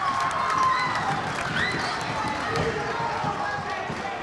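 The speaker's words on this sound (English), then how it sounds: "Crowd's going wild here." A high school boys' basketball crowd at a game against Belmont roars and cheers steadily, with ball bounces and sneaker squeaks on the court and a voice talking over the noise.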